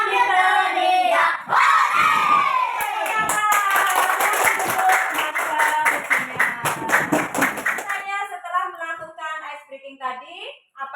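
A classroom of fourth-grade primary school children shout together loudly in a burst of yelling mixed with rapid clapping, then the noise gives way to a teacher speaking.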